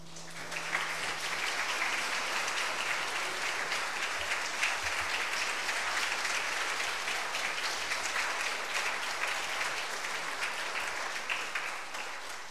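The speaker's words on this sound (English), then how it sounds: "Once again, we ask them to stand up and we give them a round of applause." Congregation applauding at a Saturday vigil Mass in a church, a steady, dense wash of clapping that holds at an even level for the whole stretch with no speech over it.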